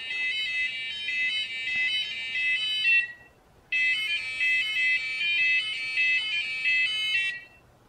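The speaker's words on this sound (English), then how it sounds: "it gets detected and the alarm starts going off" An Arduino motion sensor alarm sounds loudly in two long, steady bursts of high-pitched beeping, with a brief pause between them.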